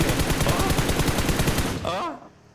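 Rapid bursts of automatic gunfire from the mobile game PUBG Mobile crackle loudly and continuously for about two seconds, then cut off, leaving a short trailing electronic tone.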